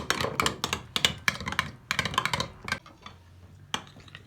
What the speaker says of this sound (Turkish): Ve yoğurtla sarımsağı iyice karıştırıyorum.